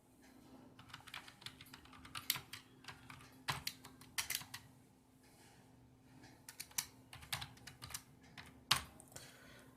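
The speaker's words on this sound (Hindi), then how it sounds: "हम उसके लिए विंडोज़ की को प्रेस करेंगे और होम को प्रेस करेंगे" Computer keyboard keys pressed for Windows shortcuts, a quiet series of irregular clicks and taps in short bursts with pauses, close by, with no speech.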